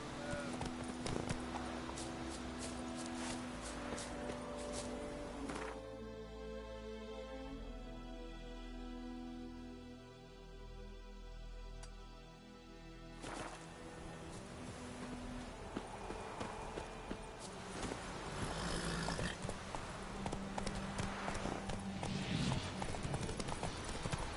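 Roach, the horse in The Witcher 3, gallops with steady, rapid hoof clip-clop that stays loud throughout, fading briefly in the middle as a low ambient drone takes over before the hoofbeats return at full strength.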